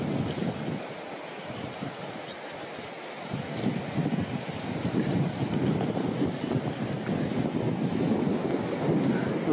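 Low-tide waves wash onto the beach at Hua Hin, Thailand, with a steady wind-blown surf roar that builds and holds throughout, no voices over it.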